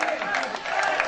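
Spectators at a court match give steady, dense applause and crowd noise in a continuous wash of clapping, moderately loud throughout with no break.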